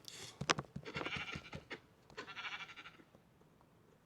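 Minecraft sheep bleat repeatedly, two drawn-out wavering bleats close by with short breathy sounds between them.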